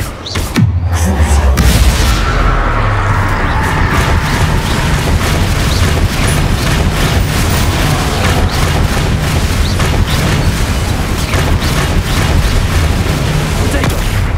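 Bombarda and Confringo spell explosions in Hogwarts Legacy, a loud opening boom followed by a dense, sustained barrage of rapid blasts and crackling impacts, with a player's voice calling out over it.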